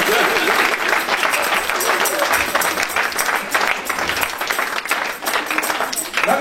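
An audience at a French-language church sermon breaks into sustained, loud applause that fills the whole stretch, dense and continuous, with crowd voices mixed in.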